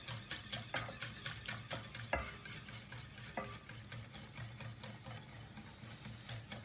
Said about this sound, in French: Bien mélanger de l'intérieur vers l'extérieur pour éviter les grumeaux.